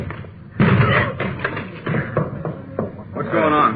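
Police officers forcing open a locked door in an old radio drama, a series of heavy thumping blows landing at an uneven rhythm, close and loud, with voices talking over and between the impacts.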